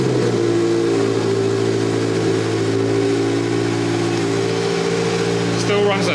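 A stock car engine with an HKS turbo kit, about 400 horsepower, runs loudly and steadily, holding a rough idle with strong low harmonics, then briefly rises in pitch near the end.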